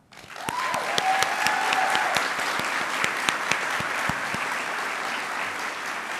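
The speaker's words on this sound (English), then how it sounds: "I'd ask everybody to take a moment to applaud them" A crowd applauds steadily for several seconds, dense clapping that stays loud and even throughout.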